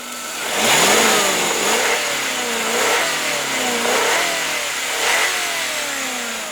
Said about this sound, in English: let me rev her up a little bit, and you can hear it